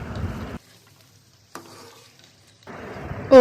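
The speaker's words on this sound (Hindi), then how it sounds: "और दही के साथ चिकन की भुनाई करें।" Chicken fried with yogurt in a pan gives short bursts of sizzling and stirring separated by quiet gaps, with a sharp metallic clink at the very end.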